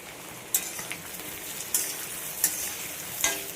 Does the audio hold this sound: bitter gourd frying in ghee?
yes